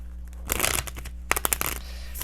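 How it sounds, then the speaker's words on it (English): Tarot cards being shuffled close up, two quick bursts of riffling and flicking separated by a short pause, in a quiet room. "Shuffle the cards for our animal messages."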